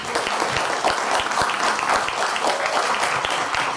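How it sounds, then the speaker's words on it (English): An audience at a nation-building talk on leadership in a multicultural society applauds a guest author, a dense, steady wash of many hands clapping at moderate distance. "please give a big round of applause to our guest today"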